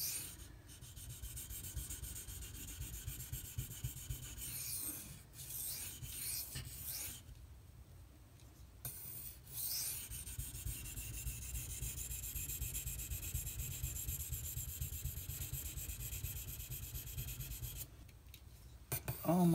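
An S90V steel knife blade is stroked across King and Suehiro Cerax whetstones, a steady rhythmic rubbing rasp with short pauses between passes, close and clear.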